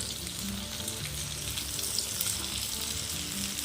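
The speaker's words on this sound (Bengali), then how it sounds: "একটা একটা করে বাঁধাকপির টুকরোগুলো দিয়ে ভেজে নিতে হবে" Cabbage pieces fry in white oil in a wok, giving a close, steady, vigorous sizzle with a constant bright crackling hiss that does not let up.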